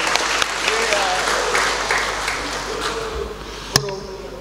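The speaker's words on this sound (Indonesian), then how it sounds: "Tepuk tangan lagi." Applause fills a provincial parliament plenary session hall in Gorontalo, steady clapping from many members in the chamber, with talk mixed in underneath.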